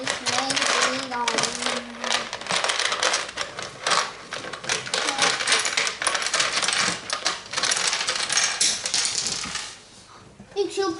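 Plastic toy building pieces pour and clatter out of a bag, a dense, busy rattle of many small parts tumbling close by for most of the stretch, thinning out near the end, with faint voice sounds mixed in.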